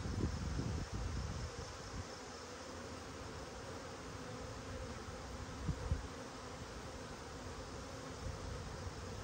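Packaged honey bees buzzing steadily around a new hive, a dense continuous drone from many insects close by, with a few louder passes near the start and just before the midpoint.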